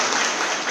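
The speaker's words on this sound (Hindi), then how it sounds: "बजाओ ना ताली को" Audience applause fills a satsang hall, a dense, steady wash of many hands clapping together with no gaps, loud and close throughout the brief burst.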